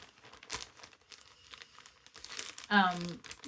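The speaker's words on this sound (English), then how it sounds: "I put it all in these individual plastic bags" Individual plastic bags being crinkled and handled close up, with scattered rustles building to a louder crunchy burst near the end, while a voice speaks faintly in between.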